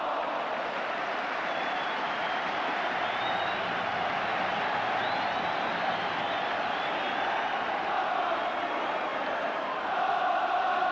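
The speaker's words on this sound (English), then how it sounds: "And the crowd appreciate it." A large football crowd at Liverpool versus Walsall in a 1984 semi-final sends up a steady, distant roar of cheering and chanting that holds at an even level throughout.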